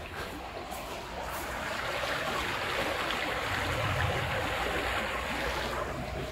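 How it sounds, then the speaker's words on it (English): A brook flows beneath an old tramway bridge in Derbyshire on a rainy walk, making a steady, fairly loud rushing wash that swells slightly over the clip, with no talk. "Two things that babble, Brooks and me."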